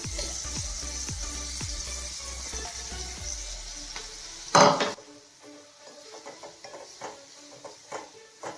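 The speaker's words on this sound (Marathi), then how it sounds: "तो बारीक केलेली भाजी आपण यामध्ये घालू." Chopped chivai greens tipped into a pan for a Marathi zunka, with a loud clatter and stir as they go in, followed by soft frying and scraping sounds.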